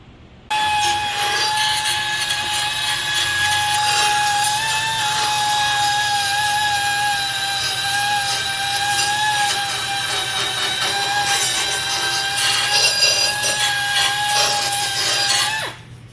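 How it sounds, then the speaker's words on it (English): A power grinder with a grinding wheel or sanding disc whines steadily against metal under a Toyota JZX100 Chaser for about fifteen seconds, loud and close, with a high abrasive scream that wavers slightly in pitch. "what we're doing here under the car with a zippy grinder wheel or a sanding disc"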